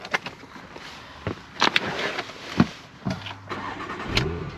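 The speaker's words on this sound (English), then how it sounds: "let me start it up" A 2019 Porsche Macan S starts with a short cranking burst, then its engine catches and settles into a steady close idle, with a few sharp clicks and clunks around it.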